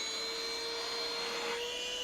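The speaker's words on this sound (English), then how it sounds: "little handheld vacuum." A small portable handheld vacuum cleaner runs with a steady, even whine and airy rush, close and continuous throughout, with no talking.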